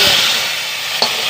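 A ridge gourd and dal curry being stirred in a pan, a brief steady sizzle with a single soft spoon knock near the end.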